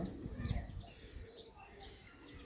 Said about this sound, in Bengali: কালদম লাইনের ম্যাড্রাসি কবুতর দেখতে পাচ্ছ